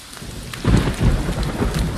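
Heavy rain and rumbling thunder from the horror video game Home Sweet Home, with a loud thunder roll swelling midway over steady downpour; no speech.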